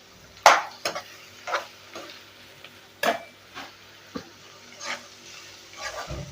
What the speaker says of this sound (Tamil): போட்டு நல்லா வதக்கி விட்டுக்கலாம் வெங்காயம் நல்லா வதங்கி வரட்டும்